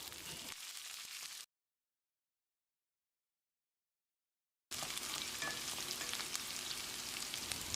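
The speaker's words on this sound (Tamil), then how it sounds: "வெங்காயத்தை கண்ணாடி பதத்துக்கு வதக்கிடலாம்" Onions sizzle and crackle in a hot pan while being sautéed for carrot rice, a steady frying hiss that cuts out to silence for a few seconds, then resumes.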